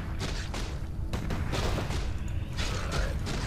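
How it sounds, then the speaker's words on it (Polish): Clanking, creaking machine mechanism in Warcraft III: The Frozen Throne as a machine repairs itself automatically, a steady dense grinding churn with scattered thumps and booms throughout, loud and continuous with no voices. "ta maszyna się naprawia sama trochę automatycznie"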